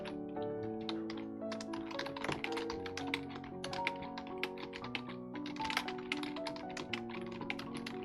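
Quick, uneven clacking of keys on a computer keyboard, close and fairly quiet, with bursts of taps and short pauses throughout.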